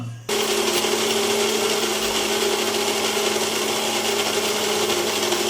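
A mixer grinder whirs into action, grinding soaked ragi (finger millet) with a loud, steady, high-pitched motor drone that starts suddenly and runs continuously.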